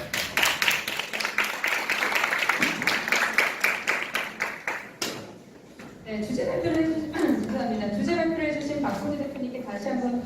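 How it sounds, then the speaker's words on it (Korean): Audience applause at a launch ceremony and forum for a blockchain public-private legislative council, rhythmic clapping for about five seconds that fades out, followed by a speaker talking. "박수 부탁드립니다."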